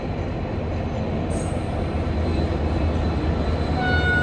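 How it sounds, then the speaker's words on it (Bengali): A train approaches on the line near Mongpong close to NJP, a loud continuous low rumble of wheels on rails that builds slightly toward the end, with a brief high squeal and faint tonal whine near the finish. "দূর থেকে ট্রেনের আওয়াজ শোনা যাচ্ছে, মনে হচ্ছে একটা ট্রেন আসছে"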